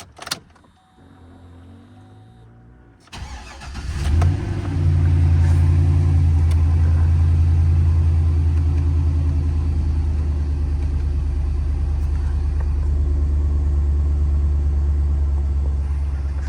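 Katie's car with 140,606 on the clock cranks and catches quickly on a cold start, then settles into a steady, loud idle rumble that runs on alone.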